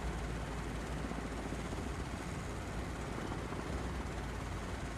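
Helicopter engine and rotor noise fill the cabin during a flight near Mount Rinjani as a constant, dense, even roar with no breaks or talking.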